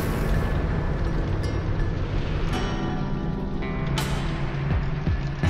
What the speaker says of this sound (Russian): пропано-кислородная газовая смесь воспламеняется такими небольшими толчками, а в конце образует что-то похожее на ядерный гриб